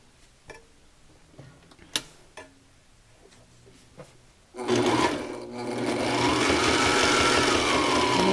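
A Sailrite Ultrafeed LS sewing machine stitches through four layers of material, starting with a few sparse ticks and clicks before breaking into a loud, steady mechanical whir that runs continuously to the end.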